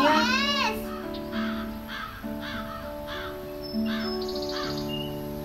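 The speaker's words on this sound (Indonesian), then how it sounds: "Ita, lihat burung itu" A bird repeatedly calls in a series of harsh, crow-like caws, sharp and fairly close, with faint background noise between calls.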